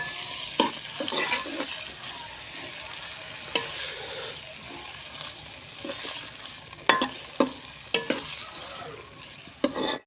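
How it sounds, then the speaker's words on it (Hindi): Potatoes frying in ghee in a kadai, a continuous sizzle punctuated by repeated sharp scrapes and clinks of a spatula stirring against the pan, growing more frequent near the end; no talking. "इसमें आलू को थोड़ा सा फ्राई करेंगे"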